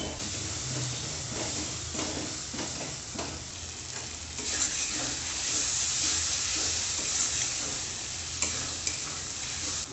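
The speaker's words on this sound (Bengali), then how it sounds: "বেশ করে কষে নিয়েছি, তেল ছেড়ে দিয়েছে মশলাতে" Tomatoes and capsicum sauté in oil with masala in a pan, a steady close sizzle and hiss with soft stirring scrapes and the occasional light clink.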